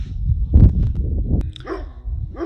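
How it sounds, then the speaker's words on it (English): A dog barks a few times nearby in a garden, sharp loud woofs followed by a couple of softer yips, with no voices. "So sorry about the dog barking"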